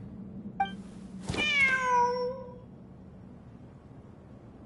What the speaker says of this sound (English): Wait, there it is! The cat!